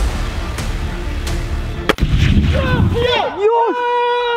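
A single loud, sharp rifle shot cracks near the middle, followed by a booming burst as the flammable target ignites, with shouting and exclamations rising right after.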